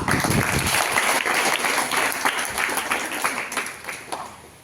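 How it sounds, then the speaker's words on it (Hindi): Steady applause from an audience at a school activity session of recitation and dance, dense clapping that holds loud throughout before tapering slightly near the end. "शिवानी और रजिया को तालियां।"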